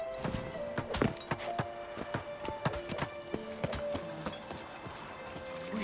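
Roach's hooves clip-clop clearly in The Witcher 3: Wild Hunt, a crisp, uneven run of close hoofbeats over a steady ambient drone, with no talk.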